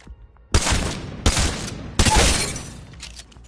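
Three loud, sharp blasts from the Mozambique shotgun in the video game Apex Legends, spaced under a second apart, each with a short noisy tail of reverb and debris.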